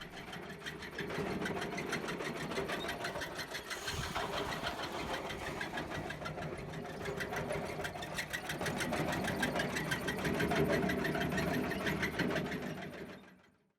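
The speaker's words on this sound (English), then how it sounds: "After the rice is dried, we thresh it." A rice threshing machine running on a paddy rice farm, a rapid steady mechanical clatter and motor hum, close and continuous before cutting off at the end.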